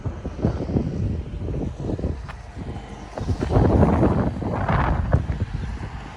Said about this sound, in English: It's cold and the wind's blowing.